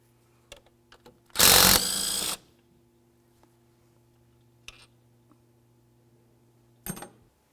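A power tool briefly whirs loose a bolt on a Buick LeSabre engine during serpentine belt tensioner work, a loud burst of just under a second amid quiet clicks and small metallic taps.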